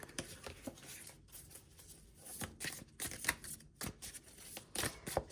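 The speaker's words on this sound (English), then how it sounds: "I'm having a hard time shuffling for some reason" Tarot cards are shuffled by hand in quick, uneven riffles and slides, soft and close, with short pauses between bursts.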